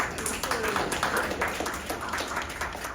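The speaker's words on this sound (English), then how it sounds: "Can we get a round of applause for her?" An audience at a Strategicon Gamex 2025 gaming convention panel claps in a steady, continuous round of applause that stays fairly soft and even throughout, with a faint murmur of voices underneath.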